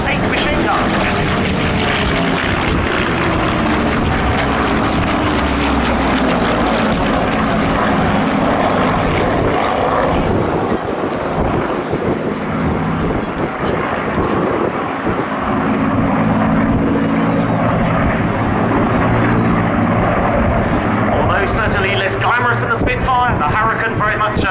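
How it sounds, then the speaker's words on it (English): A Hawker Hurricane fighter flies at an air show, its propeller engine a loud, steady roar that swells and shifts in pitch as it passes, with wind buffeting the microphone and an announcer talking over it. "The Hurricane, very much a fine warhorse, very rugged, 4 machine guns closely grouped in each wing, a very stable gun platform."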